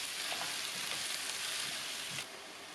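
Minced chicken sizzles steadily in a hot pan, with soft scraping from stirring now and then, constant and close, easing slightly near the end.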